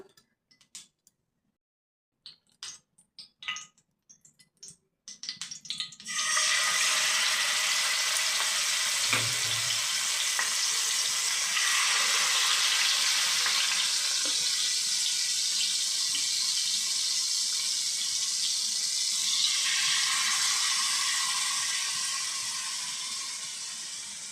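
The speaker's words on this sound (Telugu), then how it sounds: "ఇలా వేసుకున్న తర్వాత ఇది బాగా కుక్ అయ్యేలా రెండు వైపులా ఫ్రై చేసుకోవాలి" Marinated chicken lands in a hot pan and a loud, steady frying sizzle takes over, a dense close hiss that holds for the rest of the time after a few scattered clicks and taps before it starts.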